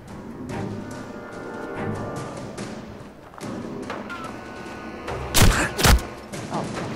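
Gunfire in the video game Fallout 4: a rapid burst of shots and thuds plays over a busy game soundscape, building to two loud, sharp blasts near the end, with no talking.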